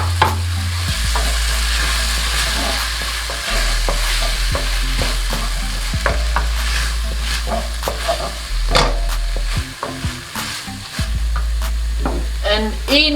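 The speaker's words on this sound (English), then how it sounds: "this is the moment when you throw in your apples." Apples tossed into a hot frying pan sizzle steadily while a utensil scrapes and stirs them with irregular clatters, close and fairly loud throughout.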